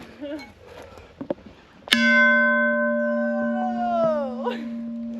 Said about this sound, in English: Oh, look, there's a bell behind you. Ring that thing.